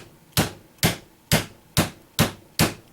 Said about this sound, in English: we are sadly starting out with a hammer